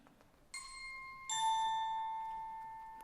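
A doorbell rings with two ding-dong chimes, the second starting about a second after the first, each ringing out and slowly fading in a quiet room.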